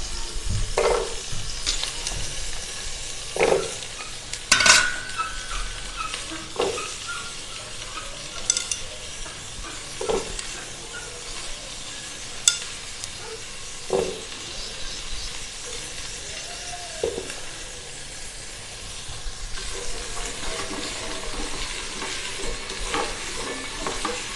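Potato and carrot frying with onion in a pan, a steady close sizzle broken by periodic clinks of a spoon stirring, with no talking.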